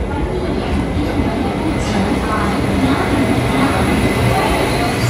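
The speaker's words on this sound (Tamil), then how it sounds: "ட்ரெயின் வந்துருச்சுங்க." A short Chennai metro-style train pulls into a station, a steady rolling rumble of wheels and carriages that stays close and even throughout.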